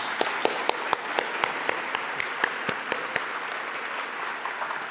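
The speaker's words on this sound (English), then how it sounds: "Can we give them a round of applause for allowing us that?" An audience at a university convocation applauds, a sustained wash of clapping with sharper individual claps standing out near the microphone, steady throughout and easing slightly toward the end.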